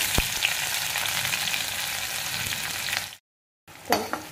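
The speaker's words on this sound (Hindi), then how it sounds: "फिर उसमें हींग, जीरा, हरी मिर्च, लहसुन और प्याज को लाइट गोल्डन होने तक फ्राई करेंगे" Asafoetida, cumin, green chilli, garlic and onion frying in hot oil make a steady, close sizzle, broken by a brief silence before stirring scrapes and crackles resume.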